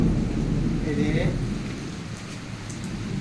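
Steady heavy rain with a low thunder rumble, close and loud throughout, during a nighttime storm while the power is out at home.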